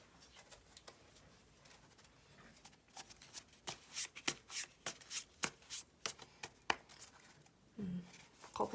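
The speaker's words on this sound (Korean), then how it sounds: "엑스트라 카드 한번 뽑아보겠습니다" Tarot cards are shuffled and drawn by hand, a run of quick crisp riffling flicks that speed into a steady rhythmic flurry of close, soft snaps, with a light thump near the end.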